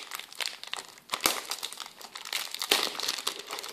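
Packaging of a Pokemon X Y Hajimete Set Deluxe card box being opened, with close, busy crinkling and rustling of plastic and cardboard in irregular bursts, a few sharper tearing crackles among them, no talking.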